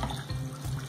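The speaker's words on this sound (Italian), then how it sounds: "E adesso mettiamo tutto quanto nella vaporiera, aggiungiamo l'acqua" Water pours from a tap into a steamer in a kitchen while vegetables are being cooked, a steady splashing gush filling a container, close and continuous, with no talking.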